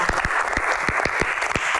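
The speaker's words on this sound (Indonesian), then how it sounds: "Tepuk tangan buat 3 bintang tamu spesial kita." Applause from a studio audience welcoming three special guest stars at a Q&A talk show, brisk clapping with distinct sharp claps over a steady crowd wash, moderately loud throughout.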